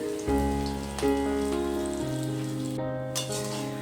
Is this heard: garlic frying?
yes